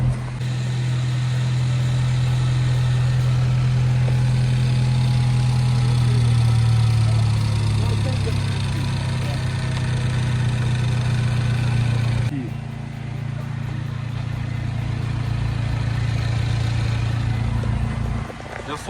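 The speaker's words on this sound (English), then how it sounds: "Ford is literally running right now." A restored, previously wrecked Ford car's engine runs at idle in a junkyard, a steady, loud low drone that shifts pitch briefly midway and dips for a moment before settling back.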